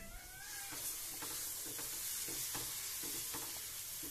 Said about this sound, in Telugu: పెసరట్టు పిండి తీసుకుని ప్యాన్ మీద